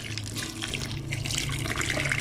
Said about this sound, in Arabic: هذا مي حار، أهم شي يكون مي حار، مو تخلوا له مي بارد.